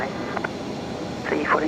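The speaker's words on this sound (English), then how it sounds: "We've got the Qantas freight, the freighter heading out now." A Qantas freighter aircraft departs Brisbane Airport, heard as a steady, distant engine roar under people talking.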